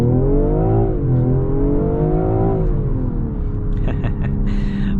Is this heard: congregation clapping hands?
no